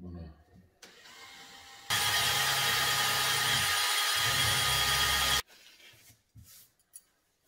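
A power drill whirs loudly and steadily for a few seconds, drilling holes in Rhodesian teak, starting and stopping abruptly, with quiet handling noises before and after.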